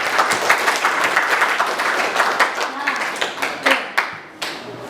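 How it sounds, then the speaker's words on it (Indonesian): Students in a classroom clap after group presentations, a lively burst of close applause that thins toward the end into a few scattered, separate hand claps. "Kita beri tepuk tangan."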